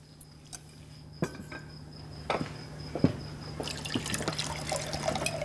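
Water is poured into a glass in a quiet indoor drama scene, heard as faint trickles and a few soft clinks against a steady background hum.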